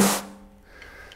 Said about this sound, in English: and the snare drum sounds like this.